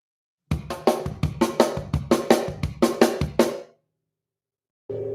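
Drum kit groove played from the kick drum, about a dozen close, loud hits in a steady rhythm for three seconds, then a pause before one more short burst starts.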